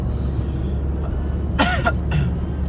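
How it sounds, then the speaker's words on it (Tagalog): Two short coughs close together, heard inside a moving Nissan Sentra in winter over a steady low engine rumble. "Umuubo-ubo ako, oh my God."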